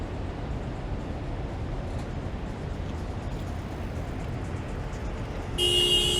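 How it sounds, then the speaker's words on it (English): Constant Toronto street traffic rumble heard while riding an electric scooter, then a car horn honks near the end, loud and sustained against the road noise. "Not sure what that honking was for"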